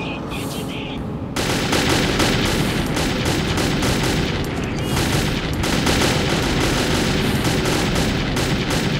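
Gunfire in the video game Metro 2033, set in a library, with a brief quieter start followed by sustained rapid bursts of loud automatic shots that keep going, with a voice faintly talking underneath.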